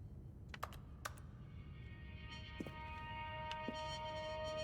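Quiet computer keyboard typing in the game The Stanley Parable, a few sparse clicks at first, then a brief burst of keystrokes, over a low hum and a rising tonal drone.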